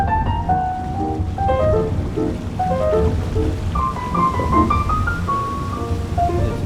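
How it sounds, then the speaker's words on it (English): A water wheel turning directly below a historic 1800s wool carding mill at Old Sturbridge Village, driving gears and machinery: a continuous low rush of water with creaking, squealing wooden and metal groans drifting in pitch over it, without talk. "that sound we're hearing is... It is our water wheel, so that is directly below us."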